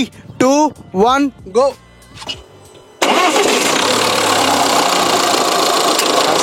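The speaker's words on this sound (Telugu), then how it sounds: "అది కూడా 2 లీటర్ డీజిల్ ఇంజిన్ అంటే ఆ ఇనీషియల్ సౌండ్ వస్తుంది" A Kryotec 170 with a 2-litre diesel engine cranks and catches after a spoken countdown, then settles into a loud, steady, rattly idle close by.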